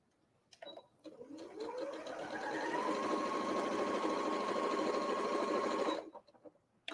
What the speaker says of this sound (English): we're sewing directly on that line